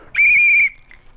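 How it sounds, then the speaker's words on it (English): Plastic boating safety whistle blown once in a sharp, loud, shrill blast lasting about half a second, followed by a faint short chirp, close up with no talking. "What most people do, including myself, is just get one of these whistles."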